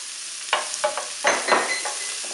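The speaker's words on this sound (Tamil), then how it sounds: "மீன் வதக்கின பேன்லயே நம்ம இன்னும் கொஞ்சம் கூட எண்ணெய் ஊத்திட்டு வெங்காயத்தை ஃப்ரை பண்ணி எடுத்துக்கலாம்." Onions fry in oil in the same pan used for fish, with sizzling bursts as they are stirred, several short crackling surges over a steady low hiss, close and clear with no voices.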